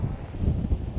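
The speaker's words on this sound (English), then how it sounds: "wind is fierce" Gusty wind blusters outdoors at Bath Abbey, a steady low rumble of buffeting against the microphone for a brief moment, with no talk.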